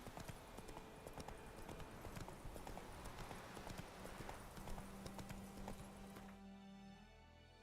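Roach the horse trotting in The Witcher 3, a brisk, continuous clip-clop of hooves up close that keeps an even rhythm before ending abruptly, with a brief voice faintly underneath.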